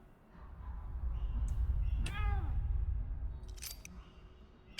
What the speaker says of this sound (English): It's that invisible cat again.